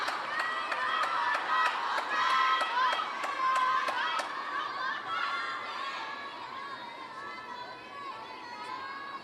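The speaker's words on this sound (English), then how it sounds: "Suddenly the crowd has become more energized." A big table tennis crowd at the 2025 World Championships cheers for Chinese players, with energized chatter, shouts and a run of rhythmic claps that fade into a steady murmur.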